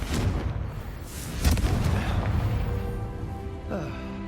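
The Confringo blasting spell goes off in Hogwarts Legacy with booming, rumbling explosive bursts and a crackling tail, loud and dense throughout.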